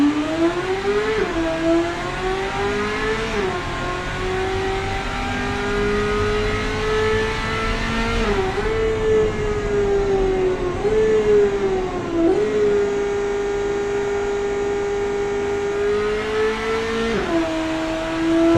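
An 80s police interceptor built in the game Automation revs on an airfield test track: a loud, continuous engine drone that climbs in pitch, drops back at each gear change and climbs again, with no talking.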